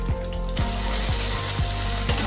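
Onion paste hits hot oil in a pan already seasoned with black cumin and ginger and chilli pastes, setting off a loud, steady sizzle that jumps up suddenly, with soft rhythmic thuds under it.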